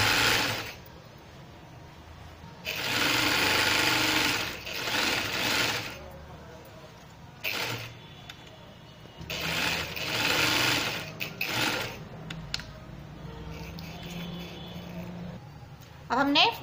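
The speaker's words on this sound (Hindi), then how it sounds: "अब हम दोनों ही फ्रंट बैक के दोनों ही पीसीज में एक बड़े टांके से कच्ची सिलाई लगाएंगे" A sewing machine runs long basting stitches along the front and back pieces of a baby frock, whirring in several close bursts of a few seconds each with pauses between, while a person talks over it.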